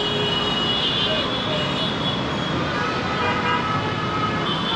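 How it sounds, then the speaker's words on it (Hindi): Dense street traffic on a main road in Dhaka, with a double-decker bus and battery rickshaws nearby, forms a loud, continuous roar of engines and tyre noise with horns tooting intermittently over it. "तो ये सामने है डबल डेकर बस, शोर बहुत आ रहा है"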